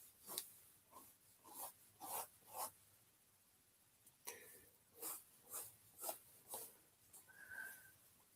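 Pencil sketching on paper, close and faint, with a series of short rhythmic scratchy strokes coming in bursts separated by brief pauses.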